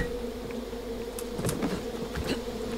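Bees buzzing steadily in the video game Far Cry 5, a continuous drone at moderate level with a few brief louder passes near the middle and end.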